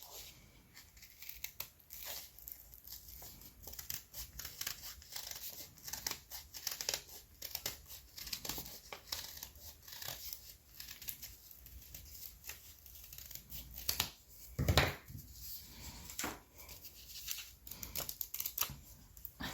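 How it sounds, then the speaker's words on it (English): Scissors snip and slice through old book-page paper, cutting out a shape for a Christmas craft decoration; close, crisp cuts and crinkles come in irregular bursts, with one louder snap near the end. "I'm just gonna cut off my shape."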